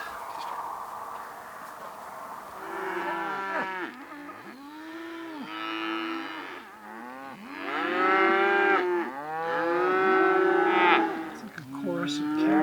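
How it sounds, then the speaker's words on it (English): A herd of cattle moos in a drawn-out chorus, several overlapping calls rising and falling at moderate distance over a quiet rural backdrop, alone without talk. "Chorus of cows."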